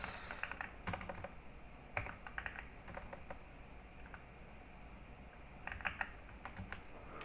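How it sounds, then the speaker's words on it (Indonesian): Typing a database command on a computer keyboard: quick clusters of close, soft key clicks and taps in uneven bursts with short gaps, alone and quiet, with no talk. "kita bisa ketik show database"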